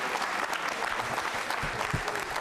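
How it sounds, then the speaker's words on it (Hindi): Sustained applause from a quiz show audience at a Jain Social Group regional event, a dense, steady wash of clapping filling the whole stretch with no talk over it. "आप जोरदार तरीके से तालियां बजाइए"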